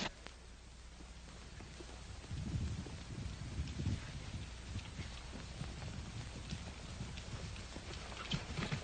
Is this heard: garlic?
no